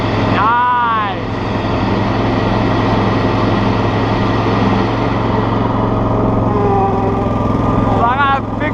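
A zero-turn mower with a swapped engine runs with its cutting deck engaged, a loud, constant engine drone and blade hum filling the whole clip, with a voice heard briefly over it.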